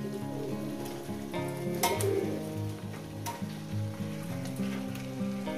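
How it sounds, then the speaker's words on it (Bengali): Chicken pieces go into a pan of fried spice masala, giving a steady, close sizzle with occasional stirring scrapes, while gentle background music plays underneath. "চিকেনটা দিয়ে দিলাম"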